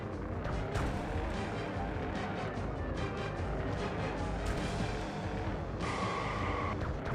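Mad Hatter bombs going off in a PlayStation video game, a dense barrage of heavy booming blasts and crashes filling the whole clip at steady loud level, with no talk over it.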